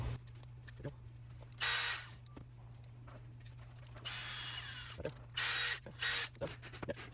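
A retaining screw is driven into a hex standoff during a bolt-action Caliburn build, heard as several short whirring bursts with small clicks and handling noises between them.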